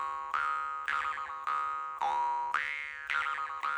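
Jaw harp twanging with vibrato, six plucked notes about half a second apart, each a bright buzzing tone that wavers and bends in pitch as it decays, close and clear with no voice.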